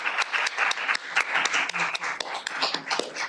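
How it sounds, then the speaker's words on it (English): An audience bursts into applause after a talk on human rights, food and water security; dense hand clapping runs steadily throughout, close and fairly loud, with no voices over it. "let's give a round of applause for Seree and Mara"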